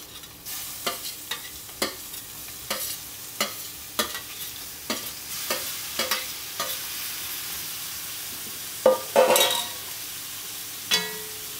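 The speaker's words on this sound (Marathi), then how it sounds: "आपण हे व्यवस्थित बाजूला व्यवस्थित परतून घ्यायचं आहे" Marinated prawns stir-fried in masala over a wood-fired stove, with regular spatula scrapes and taps on the pan roughly every second over a steady sizzle and a louder clatter near the end.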